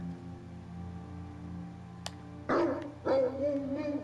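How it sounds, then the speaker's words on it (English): A dog in the video game Black Legend gives two short, close barks over a quiet low background hum, preceded by a brief high blip. "I can pet a dog."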